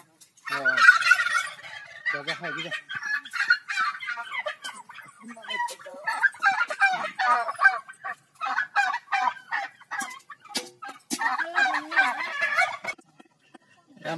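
Farm poultry call close by, with repeated gobbling and honking cries from turkeys and geese in uneven bursts, some chicken-like clucks mixed in and no clear speech.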